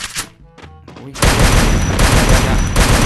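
Rapid automatic gunfire from the battle royale shooter Free Fire erupts after about a second of quieter game sounds and continues loud and dense as a sustained burst to the end.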